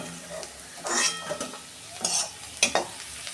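Bitter gourd pieces frying in oil in a pan with onion and garlic, with a low sizzle broken by several clinking spatula stirs and pan scrapes in bursts, close up and without speech.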